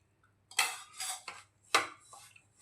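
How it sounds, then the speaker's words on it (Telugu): Semolina being fried in ghee in a pan for jaggery rava laddu, heard as a few sharp scraping clatters of a spoon against the pan, spaced out and close, with no talking. "అలాగే కొంచెం నెయ్యి వేసుకుంటూ ఫ్రై చేసుకుందాము"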